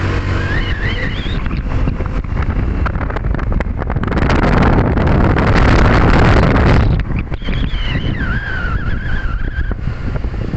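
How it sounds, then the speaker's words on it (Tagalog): Strong wind buffets the microphone throughout while walking among tall buildings from McKinley West to Uptown BGC, a steady roaring rush that swells louder in the middle, with faint engine-like tones underneath. "Okay lang yung hangin"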